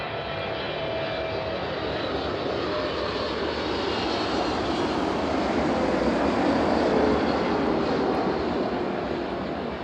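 An Ilyushin Il-76 jet departs East Midlands Airport, a loud sustained broadband engine roar with a whining tone that swells slightly and holds steady for ten seconds, with no speech over it.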